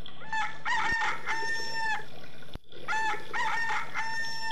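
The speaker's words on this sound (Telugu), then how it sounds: "రెండు కాళ్ళు రెండు రెక్కలతో కాకి కంటే పెద్దగా ఉండి కుక్కరొక్కో అంటుంది" Two cartoon-style rooster crows in a Telugu children's animated story about a little hen, each a loud, clear cock-a-doodle-doo with stacked harmonics, separated by a brief click and pause.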